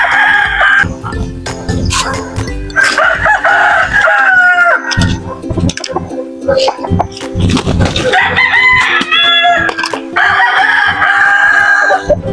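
Chickens and chicks clucking with repeated rooster crows in a yard, loud and close, overlapping calls throughout with no talking.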